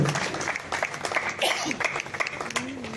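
A church congregation applauding: steady, dense clapping that fills the whole short moment, with voices talking and calling out underneath.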